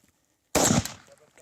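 One sharp close rifle shot from an old firearm at a shooting practice in a Namibian reserve, a loud crack after a silent pause that trails off into a brief decaying echo and faint rustling.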